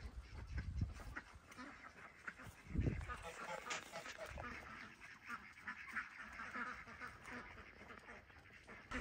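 Ducks quack in bursts, near and loud at times, mixed with a person talking and other bird calls in the background on a small farm in Canada.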